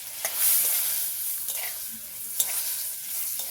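Turmeric powder fries in oil in a pan, making a soft, steady sizzle broken by a few light spoon scrapes and taps as it is stirred, fairly quiet and close, with no voices.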